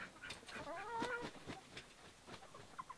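A broody hen clucks and croons in agitated, warbling calls, close by and fairly quiet, with the noise trailing off into softer scattered clucks.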